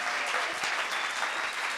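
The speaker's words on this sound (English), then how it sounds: "give a big round of applause for the Hudson Theater" A large theater audience claps and cheers loudly and steadily, a dense wash of applause filling the whole moment with no talking over it.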